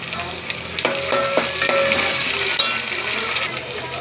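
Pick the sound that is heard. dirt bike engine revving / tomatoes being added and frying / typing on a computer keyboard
tomatoes being added and frying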